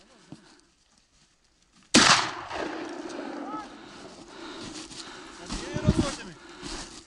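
A single sharp, loud gunshot cracks out during a wild boar hunt in snow, breaking a near-silent stretch, followed by excited shouting and outdoor commotion that carries on afterward.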